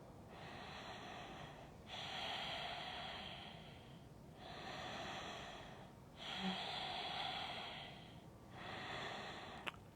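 Slow deep breaths during a yoga hip-release session, five long airy inhales and exhales in a steady rhythm, close and fairly quiet, with no talking.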